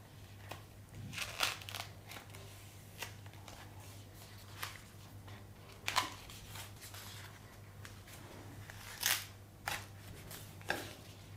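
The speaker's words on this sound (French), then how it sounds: "Coupez la feuille de bananier en rectangle." Scissors snip through a banana leaf to cut a rectangle, giving sparse crisp cuts and crackles scattered across a quiet kitchen with a steady low hum underneath.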